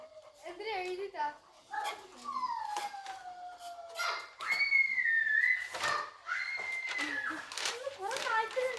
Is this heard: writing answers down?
no